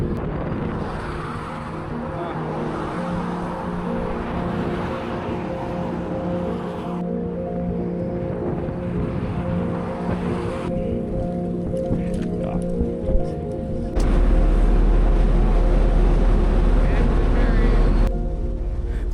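A ferry ride brings a continuous low rumble of ship engine and gusting wind noise that shifts in character partway through, heavy and steady throughout, with a voice faintly audible under it.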